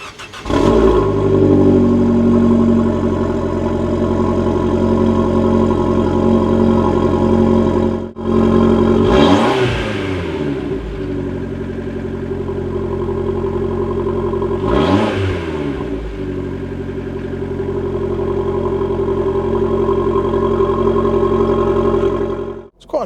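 Abarth 595 Turismo engine cranks and catches, then idles loudly up close with two sharp revving blips that rise and fall, under a steady throaty rumble.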